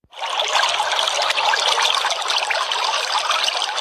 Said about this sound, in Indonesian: suara air mengalir,